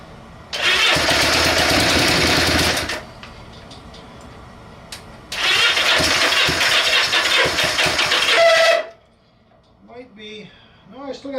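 Honda Benly motorcycle engine cranking and catching twice, each time running roughly for a few seconds before dying, then someone speaks briefly at the end.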